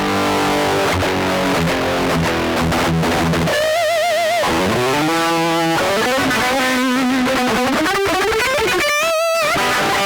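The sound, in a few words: electric guitar through Bugera tube amp head line output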